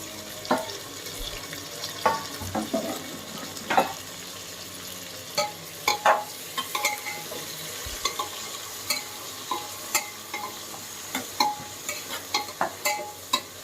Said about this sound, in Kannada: ಎಲ್ಲ 5 ಮಿನಿಟ್ಸ್ ಫ್ರೈ ಆಗಬೇಕು.